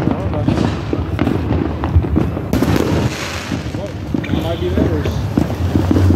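Fourth of July fireworks pop and crackle in a dense, continuous barrage, with voices talking over the booms throughout.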